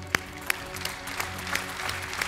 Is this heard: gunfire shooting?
no